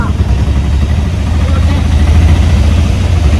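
An auto-rickshaw's small engine rumbles steadily at idle, loud and close, with a low continuous drone throughout, on a rainy day.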